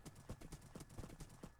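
Horse hooves clip-clop in a steady, brisk rhythm from a mounted horse in a video game, about eight even beats close up over a faint background hum, with no talk.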